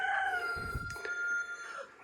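A rooster crows once at a distance, a drawn-out call over a brief low rustle nearby.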